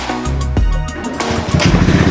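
A Honda Beat FI scooter engine, just fitted with a new throttle tube, cranks with a short starter whir and catches, then settles into a steady, close, buzzing idle.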